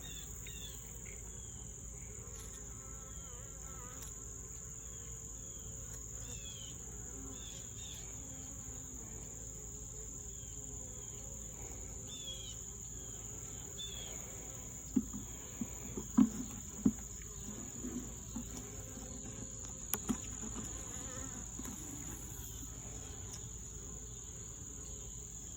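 Bees buzz faintly around an abandoned hive split: a steady, thin insect drone, with a few soft taps and bumps partway through.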